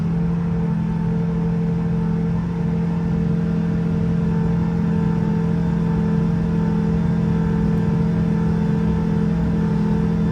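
Rotax 914 Turbo aircraft engine running steadily on a dyno at cruise power, a continuous loud droning hum with a strong low tone and even, unbroken rumble throughout.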